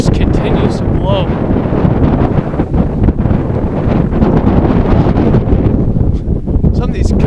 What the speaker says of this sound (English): Some of these gusts have to be about 40 miles an hour.